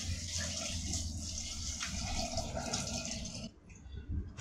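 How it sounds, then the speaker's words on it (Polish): Multi-fruit compote is poured through a strainer, a continuous close liquid gush and splash that stops abruptly near the end before a short final clatter. "I teraz sobie przecedzam"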